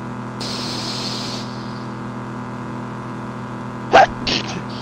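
A single short sneeze bursts out close by near the end, standing out against a quiet, steady background hum, with a smaller breathy sound just after.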